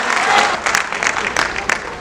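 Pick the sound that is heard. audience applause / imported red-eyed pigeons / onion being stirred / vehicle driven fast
audience applause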